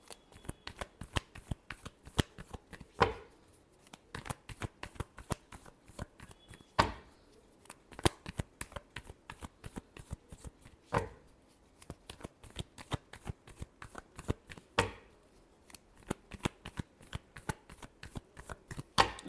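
Tarot cards shuffled by hand during a reading, a long run of quick, crisp riffling and slapping flicks in uneven bursts, close and fairly quiet, with no talk over it.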